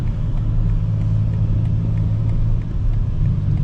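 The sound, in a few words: BMW M4 CS driving on the highway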